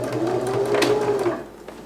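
A sewing machine back-stitches a fabric seam on a handmade reusable gift bag, a loud, close, continuous motor whir with rapid needle chatter lasting under two seconds.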